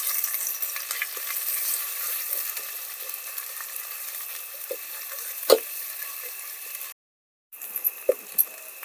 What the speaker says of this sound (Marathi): मसाला चांगला तेल सुटेपर्यंत परतलाय मस्त.